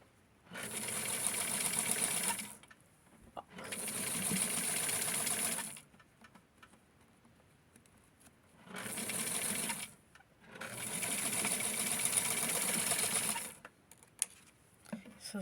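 A serger sewing machine stitches fabric for a vintage Ken beach set in four bursts of rapid, close motor whirring, each two to three seconds long, separated by short quiet pauses with small clicks.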